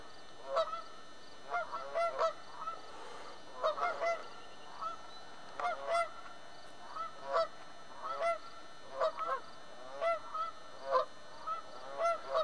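Geese honk repeatedly at a moderate distance, a steady series of short nasal calls spread across the whole stretch.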